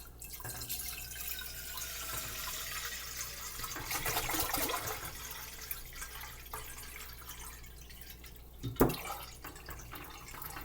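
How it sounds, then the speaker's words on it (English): Three quarts of water run and splash into a kombucha pot, swelling in the middle and ending with a sharp clatter near the close, fairly close by. "I will place the 3 quarts of water into the kombucha pot."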